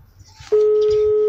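A phone call to an unreachable number gives a soft line hiss, then a loud, steady single tone that holds unbroken to the end.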